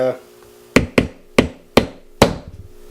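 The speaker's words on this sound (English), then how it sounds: "I was just about to set a rivet here, so let me get this set real quick" A hammer strikes a rivet in five sharp, distinct metallic blows with short ringing decays, irregularly spaced and close to the listener, with no talking.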